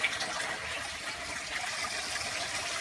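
Water from an off-grid solar-powered greenhouse aquaponics pump runs steadily over grow media, a continuous close gushing and trickling wash with no pauses.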